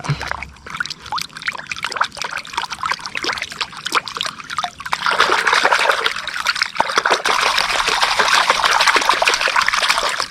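Fish being washed by hand in water, with steady trickling and splashing that grows fuller and louder halfway through, close by and with no talk over it.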